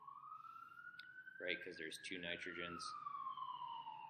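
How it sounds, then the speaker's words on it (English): An emergency vehicle siren wails steadily outside, rising and then falling in pitch, and runs through the whole stretch under a person's nearby speech. "sorry about the siren"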